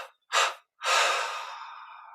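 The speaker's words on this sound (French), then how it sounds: "On expire en 3 fois par la bouche." Three breaths pushed out through the mouth during a guided meditation, two short puffs followed by a longer, fading exhale, close and alone in a quiet room.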